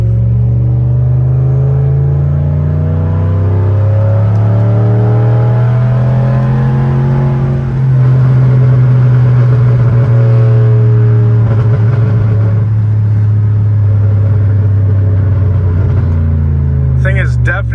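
A straight-piped Pontiac Bonneville GXP held in a low gear, its loud raspy exhaust droning and climbing steadily in pitch as it revs, then swelling louder partway through.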